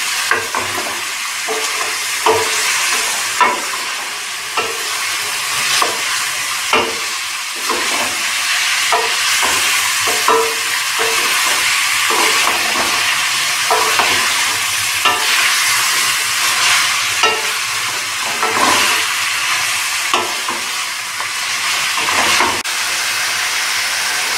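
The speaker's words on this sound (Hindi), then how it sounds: "थोड़ा सा चाप को भूनेंगे इसमें।" Mutton chops frying and being stirred in a pan, giving a continuous loud sizzle with steady hiss and repeated scraping stirs, heard close and alone.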